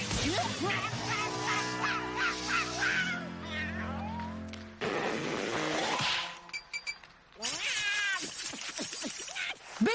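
A cartoon cat from Kid vs. Kat meows and yowls loudly in repeated wailing cries, mixed with quacking-like squawks and clinks, with short gaps and a burst of frantic caterwauling near the end.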